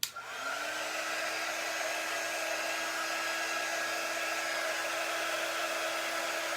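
A hair dryer blows steadily on a craft piece, a close, continuous whirring roar with a faint high whine, switching on abruptly and running evenly throughout.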